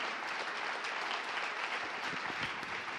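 Applause from a church congregation at a Paris Christian conference, dense steady clapping filling the space with some cheering mixed in, sustained throughout.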